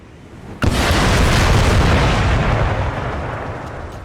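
Artillery rounds from Total War: Empire crash into enemy ranks: a sudden loud boom followed by a dense rumbling roar that stays heavy for a few seconds before slowly fading.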